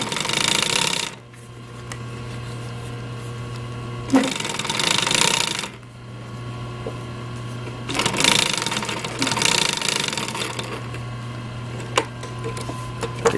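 A sewing machine stitches a car headrest in loud, rapid bursts, with a steady motor hum and quieter pauses between the runs of stitching.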